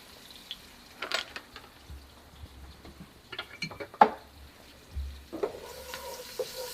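Curry powder and chopped garlic fry in seasoned oil in a pot, a quiet intermittent sizzle with soft scraping and stirring clinks, faint and close.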